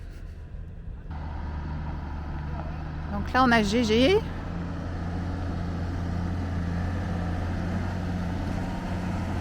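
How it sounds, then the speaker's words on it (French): Trucks drive up a hill at an abandoned mine: a steady low engine rumble runs throughout, with a brief high whine or horn-like warble in the middle, while people talk over it. "Ça y est, on entend les camions arriver."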